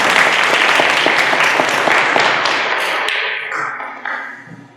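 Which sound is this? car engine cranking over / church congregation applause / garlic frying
church congregation applause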